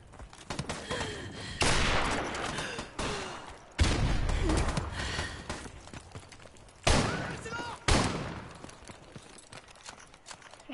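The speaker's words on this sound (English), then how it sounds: "I'm getting shot at." Bursts of video game gunfire come in several loud, close volleys separated by quieter gaps, under and between voices talking.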